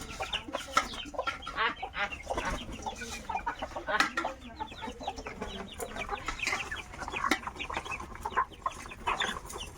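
Many chickens cluck continuously at close range, a busy overlapping chorus of short calls with no talking.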